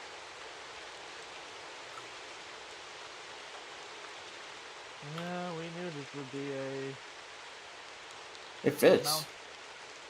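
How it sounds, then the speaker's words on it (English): Steady rain ambience plays as a broadband hiss throughout a fantasy tabletop role-playing session set in jungle terrain, with people briefly talking over it midway and a short loud burst near the end. "Ooh, sounds of rain."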